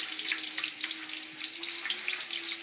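Onions sizzle in a pan of hot oil with a steady, close, even hiss that runs unbroken and without speech.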